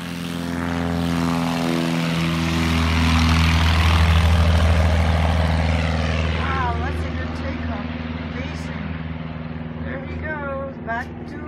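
A Piper Cub light airplane lands at a home airstrip. The propeller engine drones loudly and close, then fades and drops in pitch as it slows, and voices talk over the engine toward the end.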